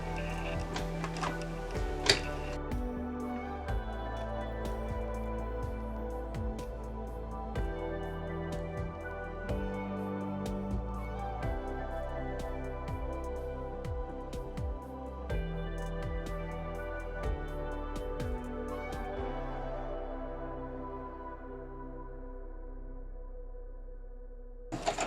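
A sewing machine stitches a pleated cloth face mask a quarter inch from the edge, its needle ticking in a steady, fast mechanical rhythm close by. The stitching runs continuously with no talking, then trails off near the end.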